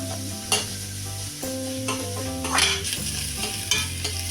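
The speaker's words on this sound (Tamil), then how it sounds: "ஒரு ரெண்டு நிமிஷத்துக்கு நல்லா வதங்கட்டும்" Grated carrot and onion sautéing in a hot pan for rava idli, with a close, steady sizzle and repeated scraping stirs of a spoon against the pan.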